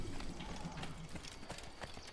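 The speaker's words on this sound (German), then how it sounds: "Können wir hier irgendwo unser Pferdchen rufen?" A horse trots up after being called in the video game Assassin's Creed, its hooves clip-clopping steadily over a constant background rumble.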